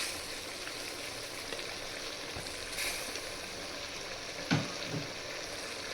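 Mutton sautéing in a pan with turmeric and mint for biryani, giving a steady broadband sizzle throughout with a couple of brief stirring knocks near the end, no talking.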